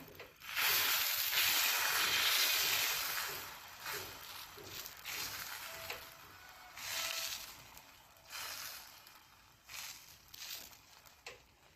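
Drumstick leaf dosa batter poured and spread on a hot griddle, a close hissing sizzle that swells loud at first, then fades into softer repeated bursts.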